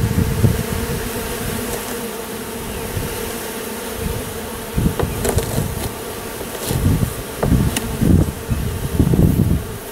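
Honey bee foragers swarm around the former site of a hive, a dense, loud buzzing hum close by, steady throughout, with individual bees droning louder as they pass near. Occasional faint knocks sound underneath, and no one speaks.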